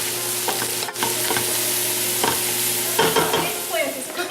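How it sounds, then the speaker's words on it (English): Eggplant and celery sizzle steadily in a hot pan over high heat, a continuous frying hiss with occasional stirring scrapes and clicks, close and alone without talk. "Eggplant is cooking."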